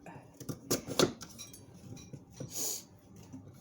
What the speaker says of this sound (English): Just cut them up and toss them right into your pot.